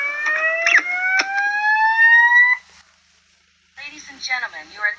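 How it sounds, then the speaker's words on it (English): A fire alarm in the Avatar World video game wails in rising electronic sweeps for a few seconds, then cuts out briefly before an announcement voice begins speaking. "An alarm has been activated."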